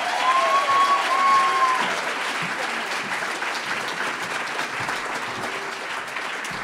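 Warm, sustained applause from a seated audience welcoming author Peggy Orenstein at a town hall talk in Seattle, a thick even patter of many hands clapping that starts full and eases slightly as it carries on, with no speech over it.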